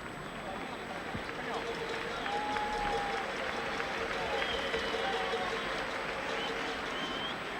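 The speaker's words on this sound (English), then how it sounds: "And applause, let it be noted, from the Spanish crowd" A Spanish football crowd in a stadium during a Spain versus England match in 1980 gives a broad, distant wash of applause and crowd noise, steady and swelling slightly, with a commentator's voice faintly over it.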